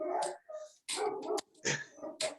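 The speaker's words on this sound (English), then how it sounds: "The dog's going crazy because we're about to start the show." A dog barks excitedly in a room where a sports talk show is about to start, giving a rapid run of loud, close barks and yips in several bursts with brief gaps between them.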